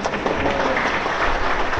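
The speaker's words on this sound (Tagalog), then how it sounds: "Nakagising sa katabi mong tulog ang palakpak nyo" Dense, steady applause from a church congregation during a service, filling the whole short stretch at an even, moderately loud level with no pauses and no voices over it.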